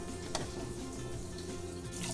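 Water runs steadily from a tap fed by a newly installed VEITO tankless electric instant water heater, a continuous close splashing gush with no voices.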